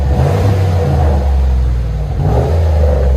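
A 2002 Lincoln's 4.6L V8 with both mufflers cut off revs loudly and close up, a deep continuous rumble that rises, dips briefly, then surges again.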